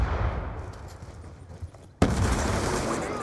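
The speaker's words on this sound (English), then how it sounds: "That was all of my bullets in my right gun, and I had one left in the chamber on my left gun." Dual handguns fire in rapid bursts during a video game deathmatch, with dense overlapping shots and a sharp loud crack partway through, the gunfire close and continuous.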